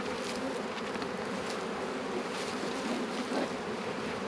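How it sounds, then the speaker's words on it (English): A dense, steady hum of many bees buzzing close around hive frames, continuous and loud without pause. "That one out there had quite a few bees on the frames."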